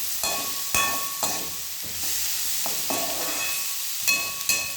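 Greens and tomato sautéing in a pan, a loud, close, continuous hiss of frying broken by several sharp stirring scrapes and knocks.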